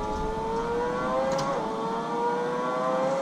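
Formula 1 car in the Assetto Corsa racing simulator on the Nürburgring, a steady loud engine whine with stepped tones dropping as it downshifts to second gear, continuous and close, no talking.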